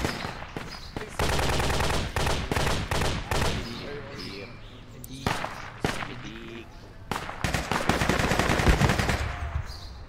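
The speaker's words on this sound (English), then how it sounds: "I just shot three guys" Rapid automatic gunfire bursts and single shots from infantry weapons in the military shooter game Project Reality, loud and repeated throughout with short pauses, some shots sharp and near, others echoing, with faint voices under the firing.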